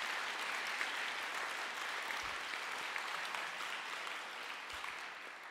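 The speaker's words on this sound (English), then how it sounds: "Would you give them a huge round of applause?" Sustained applause from an audience honoring staff at a jazz alumni band event, steady and dense throughout with no talk over it.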